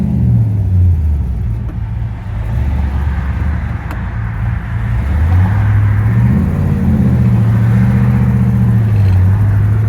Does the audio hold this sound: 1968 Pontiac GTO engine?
yes